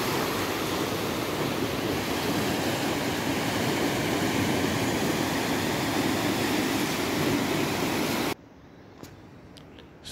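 Ocean waves roll against a rocky shore at a seaside resort town in Asturias, a loud continuous roar of surf that cuts off abruptly near the end to quiet background.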